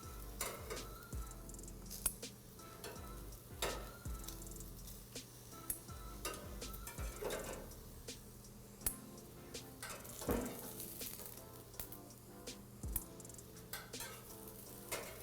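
Zucchini sizzling on a veggie tray over a hot grill, a steady close frying hiss broken by frequent scrapes and clinks of a utensil turning the pieces, with no talking.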